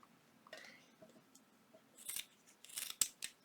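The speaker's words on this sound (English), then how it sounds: "let me get my scissors and we're going to trim" Several quick snips of scissors cutting paper, close and crisp, with a few softer rustles before the final sharp cuts.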